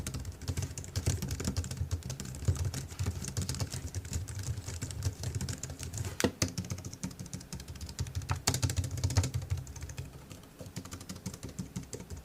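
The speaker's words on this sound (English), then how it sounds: "Here's a quick typing test on the MX Keys Mini for Mac" Steady, soft typing on a Logitech MX Keys Mini for Mac low-profile keyboard, rapid muted keystrokes running continuously for about twelve seconds with no voices.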